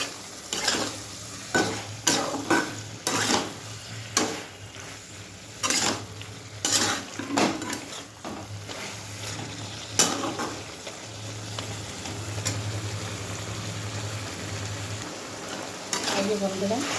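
Shrimp paste chorchori sautés in a pan as a spatula scrapes and stirs in irregular strokes over a continuous, moderate sizzle, close up with no talking.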